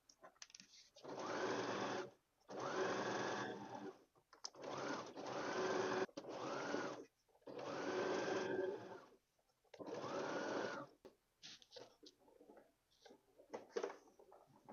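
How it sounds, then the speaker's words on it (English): A sewing machine stitches around skirt pockets in six steady bursts of close, even mechanical whirring, separated by short pauses as the fabric is turned, followed by light handling sounds. "put the presser foot back down, and sew round the pockets."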